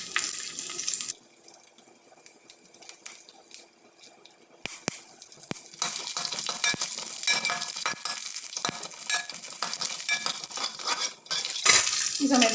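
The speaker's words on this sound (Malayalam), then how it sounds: "അതിലേക്ക് നമ്മൾ ആ വറ്റൽമുളക്, ചുവന്നമുളക് നമ്മളതൊന്ന് കീറി ഇട്ട് കൊടുക്കുന്നുണ്ട്" Torn dried red chillies frying in a pan for a Kerala-style tapioca dish, a steady broadband sizzle with scraping and clinking of a utensil against the pan, close and continuous with no talk.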